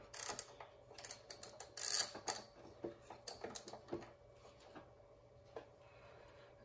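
Clicking ratchet snugging up the wheel bolts on a 2014 Honda Valkyrie motorcycle during a tire change: a run of close, quick metallic ticks in short bursts, busiest early, then thinning to sparse clicks.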